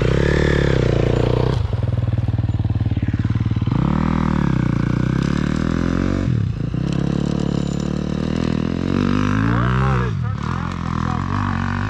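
A four-stroke dirt bike claws up a soft dirt hill, engine revving hard and rising and falling in pitch as it bogs and surges, loud and close with clattering and a voice talking over it.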